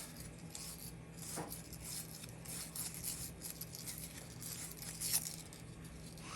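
Sandpaper spun and scrubbed across a part for a Frankenstrat replica guitar build, a steady rough rasping that runs continuously at moderate level with a few sharper scuffs.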